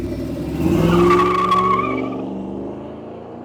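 A 1956 Chevy Sedan Delivery pulls away fast, engine roaring up loud and close with a brief tire squeal, then fading as the car drives off into the distance.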